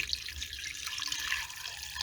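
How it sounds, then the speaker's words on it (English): Tap water runs steadily into a pot for homemade broth, a continuous close splashing stream with no talking. "so we put in the water"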